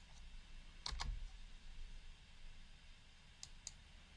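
A computer mouse clicks twice in quick succession, then twice more a few seconds later, crisp and close against quiet room tone.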